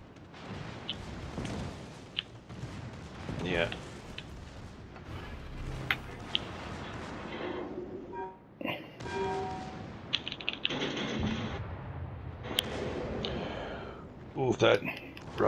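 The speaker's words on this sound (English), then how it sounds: "What the hell is shooting back there in Kansas?" Warship gun salvos in World of Warships: Legends, deep booms and sharp cracks scattered through the battle, partly under an excited voice talking.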